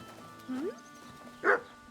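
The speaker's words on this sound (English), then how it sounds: "Who are you barking at, eh?" Dog in the video game Kingdom Come: Deliverance II gives two short, soft yips about a second apart, the second a little louder, over a quiet ambient backdrop.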